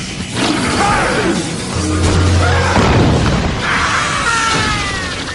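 Bakugan Grapple Buster ability attack in an animated battle, a loud booming blast with rumbling impacts and whooshing effects that rolls on for several seconds.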